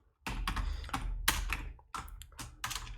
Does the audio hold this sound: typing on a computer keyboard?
yes